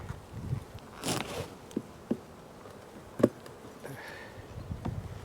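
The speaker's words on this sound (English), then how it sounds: "Man, there's a lot of bees" Honeybees buzzing at an open hive during a swarm-prevention inspection, a faint continuous hum close by with a few soft knocks and handling noises.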